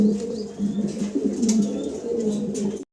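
Fancy pigeons coo continuously at close range, a low, throaty rolling murmur with overlapping calls and no talking.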